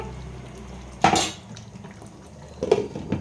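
A metal lid set onto a pot of chicken curry cooked in coconut milk, two sharp clattering clanks about a second and a half apart over a quiet kitchen background.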